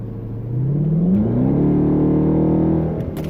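A car with a newly installed Roar throttle pedal accelerates hard, its engine note rising smoothly and loudly up through the revs, then holding a steady strong drone.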